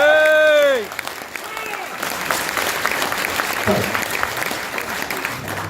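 A packed hall audience at a political talk in Christchurch breaks into applause after a speaker's voice ends, a steady crowd clapping with a few brief shouts mixed in, moderately loud and sustained.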